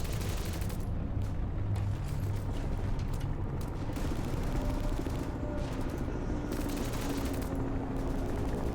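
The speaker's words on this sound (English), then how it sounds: "The sound of balloons popping is like gunfire" Balloons burst in rapid, overlapping volleys that crackle like gunfire in the horror video game In Sound Mind, a dense and loud barrage that runs on continuously under a roaring background.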